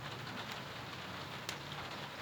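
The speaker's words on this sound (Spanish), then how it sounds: "Por favor, ignoren la lluvia en mi ventana." Steady rain patters against a window, a soft continuous hiss with a few sharper drop ticks, heard faintly and alone with no voices.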